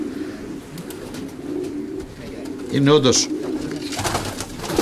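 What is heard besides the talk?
pigeons cooing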